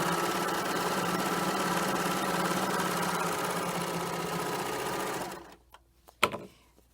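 A serger runs steadily, stitching and trimming two pieces of fabric with its knife, a loud, even mechanical whir that stops abruptly near the end, followed by a couple of small clicks.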